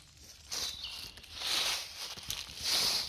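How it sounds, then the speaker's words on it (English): Footsteps crunch through dry leaves on a woodland floor, several close, soft rustling steps in an uneven walking rhythm, with faint birdsong behind. "listening to the leaves as you walk on them."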